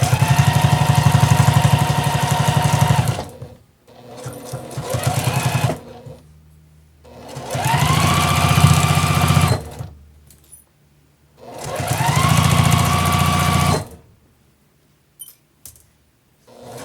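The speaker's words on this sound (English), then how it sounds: "I'm going to back stitch at the front, and I'm going to back stitch at the end." A sewing machine runs a seam on a lined origami tote bag in several steady bursts of fast buzzing stitches, with brief pauses and quiet handling noises between runs, close and loud.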